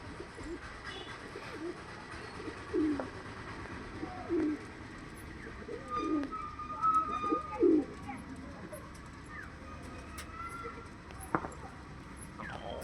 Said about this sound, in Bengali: একবার জুম করে তোমাদের একটু দেখিয়ে দিই পায়রাগুলোর কোয়ালিটি।